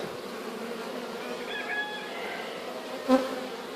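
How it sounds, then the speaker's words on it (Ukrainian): Honey bees crawl on a hive frame from a poisoned colony, making a faint steady buzz with a brief higher whine near the middle and a sharp knock toward the end. "От рамочка. Трошки є бджілок на цій рамці."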